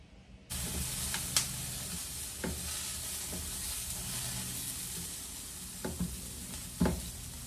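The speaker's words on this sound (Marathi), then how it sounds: "तर आता मी तेलामध्ये कांदा, आलं आणि लसूण याला मस्तपैकी छान असा ब्राऊन रंग येईपर्यंत त्याला चांगलं परतून घेणार आहे." Onion, ginger and garlic sizzle steadily in hot oil, a dense continuous frying hiss that starts abruptly, with a few sharp spoon scrapes and clinks stirring the pan, close up and without talk.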